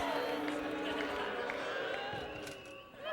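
A church audience shouts and jeers to imitate a noisy opposing basketball crowd during a simulated free throw, producing a loud, dense wall of mixed voices that dips briefly and then swells again.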